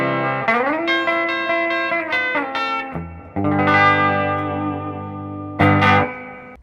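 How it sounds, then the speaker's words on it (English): Electric guitar through a hand-built all-tube 5-watt amp with reverb and tremolo plays sustained chords and short strummed phrases, ringing notes with echoing reverb tails and an overdriven edge, played alone. "I hand-built an all-tube 5-watt guitar amp with reverb and tremolo"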